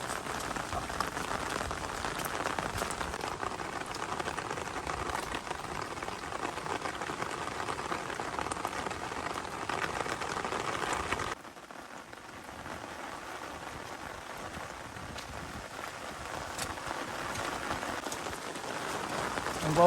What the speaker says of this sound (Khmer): ចាប់ដើមភ្លៀងយកមកឥឡូវខ្លាំងទៅហើយបង